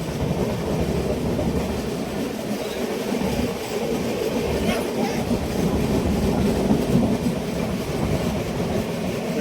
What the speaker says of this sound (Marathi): मुंबईची लोकल लाईफलाईन